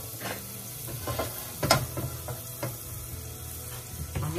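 Garlic frying in a pan gives a steady, close sizzle with scattered crackles and pops, plus a few sharper stirring clicks against the pan.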